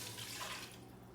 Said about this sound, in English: we are going to add 2 cups of water